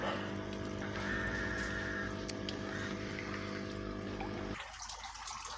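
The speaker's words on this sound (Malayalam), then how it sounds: "എയർ ഫോട്ടറിലൂടെ കുമിളകൾ പുറത്തേക്ക് വരുന്നു." An aerator pumps air bubbles into a home fish pond, making a steady watery bubbling and motor hum that drops away sharply near the end.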